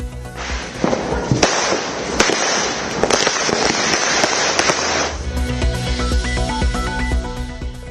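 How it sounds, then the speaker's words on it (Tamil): Diwali firecrackers and fireworks burst across Delhi during the celebrations, a loud, dense barrage of overlapping bangs, cracks and sharp pops with crackling in between, continuing without pause. "டெல்லியில் 7 ஆண்டுகளுக்கு பிறகு பட்டாசு வெடித்து மகிழ்ந்த மக்கள்."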